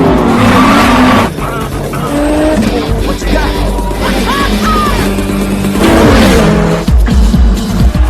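Cars race in an action film scene, with loud roaring engines, squealing and skidding tires and a possible crash-like impact, layered with film sound and voices throughout.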